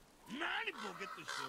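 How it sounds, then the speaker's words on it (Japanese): A crow caws from within the game God of War, its harsh call rising and falling under a nearby voice speaking over it. "カラスの声聞こえる。"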